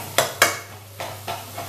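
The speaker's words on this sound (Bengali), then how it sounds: "এটাকে একটু ম্যাশ করে নেব খুন্তি করে চেপে চেপে" A spatula presses cooked dal in a pan, five or so sharp scraping knocks of metal against the pan, close and uneven, with a faint sizzle between.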